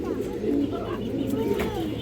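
Pet pigeons, a male and a female, cooing close by in a steady low warbling drone that runs throughout, with faint chirps and background noise over it.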